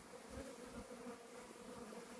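A swarm of honeybees, freshly split from a hive as a new colony, makes a steady, faint, continuous buzz, with no voices.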